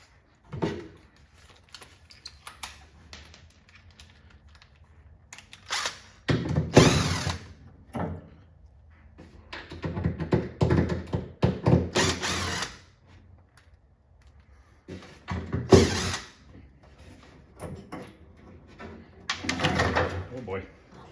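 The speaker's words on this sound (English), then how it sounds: "Okay, we can unscrew the board." Power drill unscrewing the board from a Bubbles arcade cabinet, short whirring bursts in several separate runs with quiet gaps between them, while a person talks quietly.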